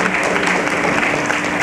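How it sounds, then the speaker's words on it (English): Brief burst of audience applause for a team called onto stage at an HR conclave, dense continuous clapping with crowd murmur. "We would like to have a round of applause for all of you."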